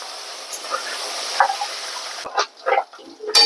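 Bata fish dropped into very hot mustard oil, with a steady frying hiss throughout and a few louder bursts of sizzle and stirring clatter toward the end.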